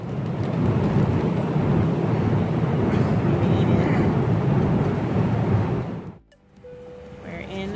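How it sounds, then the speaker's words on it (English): A dense, steady roar fills the cabin of a very large airplane for about six seconds before dropping away abruptly, leaving a quieter hum with faint clatter. "We are at the back of a plane that is absolutely enormous."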